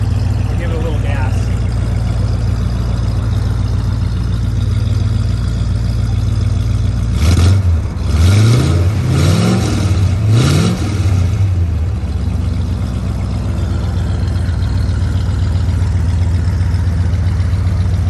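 Idle from a 1969 Lincoln Continental Mark III's big engine, then several quick throttle blips around the middle rise and fall in pitch before it settles back to a steady low idle, close and loud.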